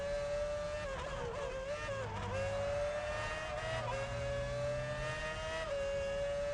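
Formula 1 car engine in the F1 Championship Edition racing video game, at the Italian Grand Prix, screams continuously at high revs with quick pitch dips on gear changes and downshifts, loud and steady throughout, with no talk.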